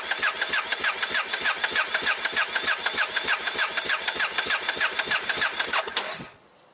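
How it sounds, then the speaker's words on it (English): A Triumph Bonneville motorcycle engine cranks on the starter in a fast, steady rhythm of even pulses for about six seconds without catching, then the cranking stops abruptly. "I'm going to press the start button"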